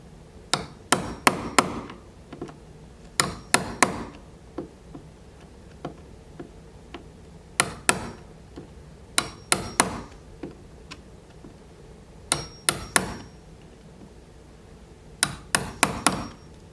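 A square chisel is struck by hand with a hammer while cutting a wooden door frame for a striker plate: sharp, close taps in irregular clusters of two to four blows, separated by short pauses.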